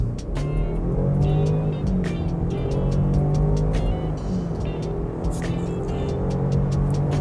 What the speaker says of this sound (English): Foot to the ground on the four-cylinder turbo.